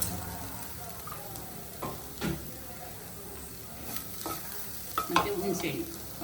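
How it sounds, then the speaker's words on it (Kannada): Cumin and sesame seeds sizzle softly in a pan, roasting with steady low frying hiss and occasional scraping stir strokes of a spoon. "ಜೀರಿಗೆ, ಎಳ್ಳು ಹಾಕೊಂಬಿಡಿ. ಮತ್ತು ಚೆನ್ನಾಗಿ ಕೆಂಪಗೆ ಆಡಿಸ್ಕೊಳ್ಳಿ."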